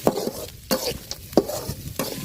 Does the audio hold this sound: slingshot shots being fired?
no